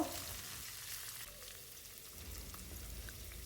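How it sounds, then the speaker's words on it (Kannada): Chopped onion and tomato frying in oil in a pan, a soft, steady sizzle and crackle heard alone at low volume throughout. "2 ಮೀಡಿಯಮ್ ಸೈಜಿಂದ ಈರುಳ್ಳಿನ ಕಟ್ ಮಾಡಿ ಹಾಕಿ 1 ಟೊಮೊಟೊನ ಕಟ್ ಮಾಡಿ ಸ್ವಲ್ಪ ಹೊತ್ತು ಉರಿಬೇಕು."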